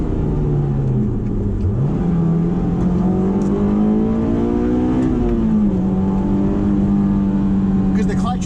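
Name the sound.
Honda S2000 engine revving while driving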